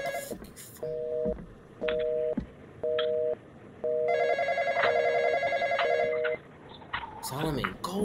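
A telephone rings in the multiplayer game Intruder, repeated electronic ring bursts followed by a longer warbling ring, while players talk over voice chat.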